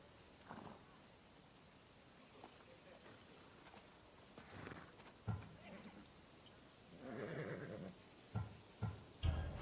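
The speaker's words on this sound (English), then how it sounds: "It's a very nice horse." A horse in Assassin's Creed Odyssey whinnies faintly a few times amid quiet ambient background, with soft thuds and short bursts of noise in between.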